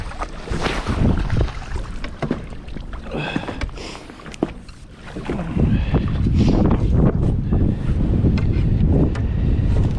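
Strong wind gusts across a winter lake during crappie fishing, roaring and buffeting the microphone loudly and continuously with rumbling bursts and no voices.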